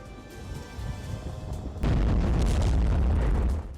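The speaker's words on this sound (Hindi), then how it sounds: "इजरायली सेना ने सेंट्रल गाजा के दीर अल बलाद इलाके में हवाई हमला किया" Israeli airstrike explosions in the Deir al-Balah area of central Gaza, a low rumbling then an abrupt heavy blast whose booming roar holds loud for nearly two seconds before easing.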